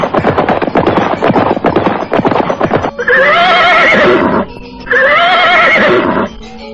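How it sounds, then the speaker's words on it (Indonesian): Horses ridden at the edge of a forest, in an Indonesian drama series, first trot with a busy clatter of hooves, then give two long, loud, close whinnies, one after another. "kuda-kuda yang mereka tunggangi mulai menapak di tepian hutan tarik"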